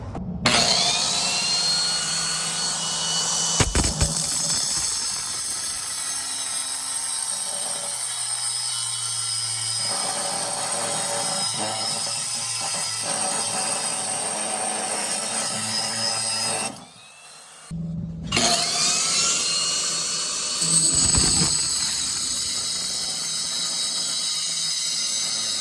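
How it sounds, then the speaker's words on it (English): An angle grinder cuts through the front pieces of an old faucet on a 1948 cast iron slop sink, a loud continuous grinding whine that runs steadily, stops briefly and starts again. "I'm gonna have to take an angle grinder and cut these front pieces off"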